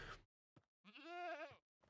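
A goat in Minecraft lets out one drawn-out, wavering bleat, clear and close, after a couple of short clicks, with no talking over it.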